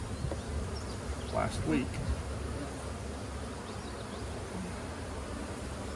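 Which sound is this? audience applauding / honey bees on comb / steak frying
honey bees on comb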